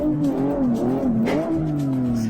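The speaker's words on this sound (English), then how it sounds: "When I hear the car like my gear." A race car engine in the video game Live For Speed drones steadily and loud with a rising and falling pitch, revving briefly, the harsh intake tone continuous throughout.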